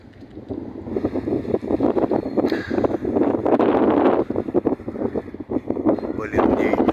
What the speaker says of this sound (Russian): Очень большой ветер у нас.